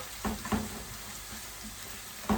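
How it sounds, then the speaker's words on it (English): Fresh tomato and other ingredients cook together in hot oil for ackee and saltfish, giving a low steady sizzle under a few soft stirring knocks and scrapes. "Cook everything together in this oil."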